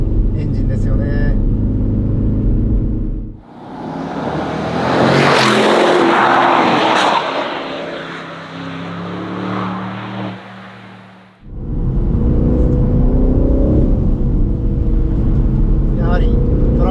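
An Aston Martin Vantage Roadster driving on a winding road, its engine loud and close, with a broad roaring rise that peaks and fades as the car pulls through a bend, between stretches of steadier droning.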